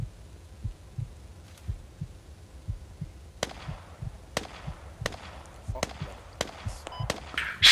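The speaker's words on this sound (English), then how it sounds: "I hear gunfire." Sharp gunshots crack at irregular intervals over a low, pulsing rumble in the video game Squad, growing more frequent toward the end.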